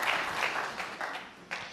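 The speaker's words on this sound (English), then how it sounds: "Karen Wilson clapping O'Sullivan on frame and match ball there" Applause rises in a steady crowd clatter after the frame- and match-winning ball of the 2020 World Snooker Championship final between Ronnie O'Sullivan and Kyren Wilson, with clapping sustained throughout and a fresh surge near the end.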